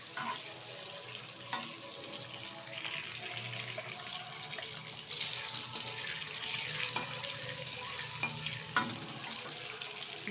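Eggs lightly frying in oil, a faint, even crackling sizzle running throughout with scattered small pops and occasional spatula scrapes.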